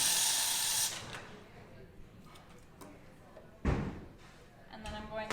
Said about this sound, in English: So I will purge my steam wand really well during my midday or end of day backflush.